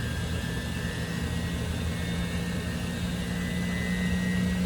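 A laboratory centrifuge rotor spins up to speed, giving a steady droning whir with a rising low hum that holds constant and fairly loud throughout.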